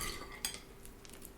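Cutlery mixing a plate of elf breakfast dessert spaghetti, with light metallic clinks and scrapes against the dish, one sharper clink near the middle, close and quiet with no talk.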